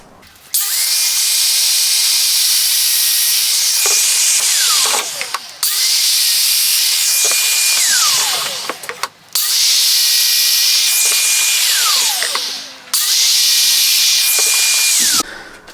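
A Festool Domino joiner cuts mortises in wood in three loud, sustained bursts, each a high whirring plunge that winds down before the next, with brief quiet gaps and clunks between them.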